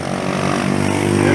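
The 2.0-litre engine of a 2014 Nissan Serena, fitted with an HHO fuel saver, runs at a steady idle, a close, loud, even hum with a slight pulsing throb.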